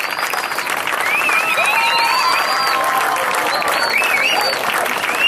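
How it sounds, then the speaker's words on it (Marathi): A seminar audience in Mumbai gives a standing ovation, sustained dense clapping that fills the hall from start to finish, with voices audible beneath the applause. "आपण सर्वांनी उभं राहून त्यांच्या जोरदार टाळ्या वाजवाव्या"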